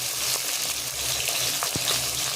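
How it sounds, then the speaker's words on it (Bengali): Bata fish pieces sizzling in hot oil in a pan, a steady bright frying hiss with a few faint clinks of a utensil stirring, close and continuous with no talking. "সব মাছগুলো দিয়ে দিয়েছি ভাজার জন্য"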